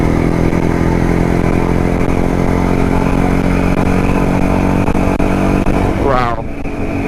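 Old Jawa Yezdi D250 two-stroke motorcycle engine accelerating, a loud, steady, buzzing close-up drone that holds throughout before a brief rising whine near the end.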